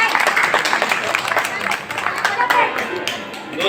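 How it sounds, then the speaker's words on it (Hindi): A crowd at a religious Ved Katha gathering breaks into loud, fairly close applause, a dense mix of claps with some crowd chatter and voices mixed in throughout. "जोरदार तालियां।"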